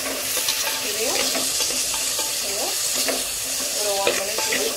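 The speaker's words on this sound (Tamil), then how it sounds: "கொஞ்சம் ஆனியன் நல்லா ஸ்மூத் ஆகுது, நல்லா கொஞ்சம் சாஃப்டாக ஃப்ரை ஆச்சு" Onions and ladies finger (okra) frying in a pan for a mutton curry, with a steady sizzle and repeated scraping stir strokes throughout, close and moderately loud, no talking.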